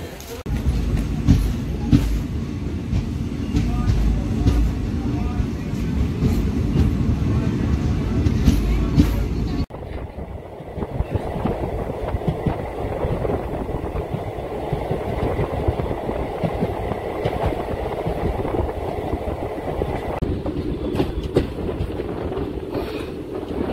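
A passenger train on the Madanapalle to Tirupati line rumbles along the rails with rhythmic clatter, loud and steady, shifting to a different tone partway through as the carriage noise changes.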